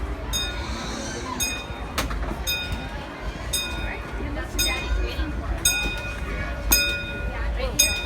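A Disneyland Railroad train rumbles steadily with metallic clinks and occasional high ringing squeals. People talk over it throughout.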